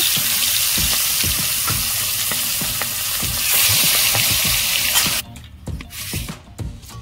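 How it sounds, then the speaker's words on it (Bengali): Two fish heads fry in hot oil with a loud, steady, crackling sizzle that fills the whole stretch and briefly thins near the end. "এবারে মাথা দুটো ভেজে নেব।"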